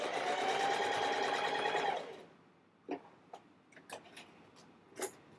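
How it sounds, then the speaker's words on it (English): A sewing machine stitches along the edge of a fabric pouch, a fast steady mechanical whirring for two seconds before stopping, followed by scattered quiet clicks and taps. "stitch right along that edge just to give it a little nicer finish"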